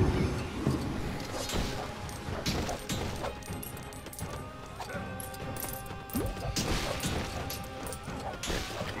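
Lego objects smashing apart in Lego Pirates of the Caribbean on Wii U, repeated loud crashes and clattering bricks with plastic tinkles and thuds over busy game sounds.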